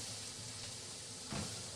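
A steady, close-up hiss of meat sizzling in a pan with a brief louder crackle near the end, and no talking.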